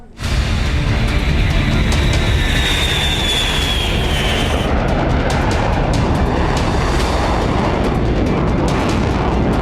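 A B-2 bomber aircraft flies over with a loud, continuous roaring rumble that sets in abruptly and holds steady throughout, dense and close.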